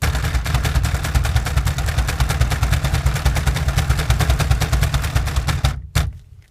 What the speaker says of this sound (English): you can usually bang these Toyotas off by hand